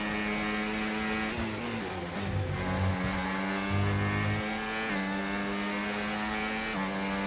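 Racing car engine in a racing video game revving steadily up a hill with understeer, a loud sustained whine rising and dropping through gear changes, heard alone.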